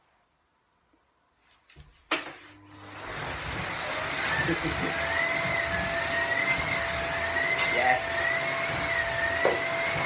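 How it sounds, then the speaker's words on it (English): A Hoover vacuum cleaner starts up after a few faint clicks and thumps, then runs with a loud, steady whining drone and shifting pitch indoors, with a brief spoken word near the start. "Now don't mind me, I'm just hoovering."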